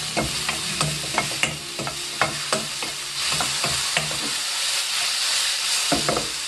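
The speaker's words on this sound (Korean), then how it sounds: "버섯을 볶으실 때는 너무 센 불이 하시면 안 됩니다." Mushrooms stir-frying over medium heat in a pan, a steady sizzle and hiss broken by repeated sharp clinks and scrapes of a utensil stirring against the pan.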